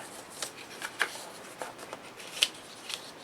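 Paper album page for an 8 x 8 mini album being folded over, soft crinkling and light papery rustles with a few sharper crisp snaps, quiet and close with no talking.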